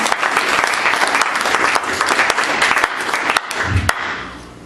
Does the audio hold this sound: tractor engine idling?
no